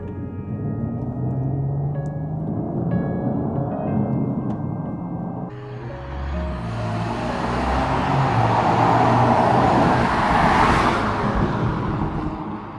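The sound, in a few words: supercharged V6 car engine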